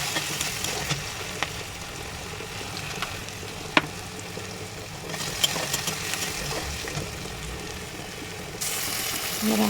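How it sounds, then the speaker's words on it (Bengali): Sliced onions with a pinch of salt fry in a hot pan, giving a continuous close sizzle broken by occasional sharp clinks and scrapes of a utensil stirring. "একটু নুন দিয়ে দিলাম তাতে যাতে পেঁয়াজটা ভালোভাবে ভাজাটা হয়ে যায়"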